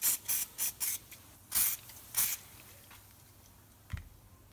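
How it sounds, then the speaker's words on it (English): Short bursts of aerosol cleaner hiss onto a chainsaw bar caked with pine sap: four quick sprays in a row, then two longer ones, close and crisp, followed by faint handling noises. "A bit of spray."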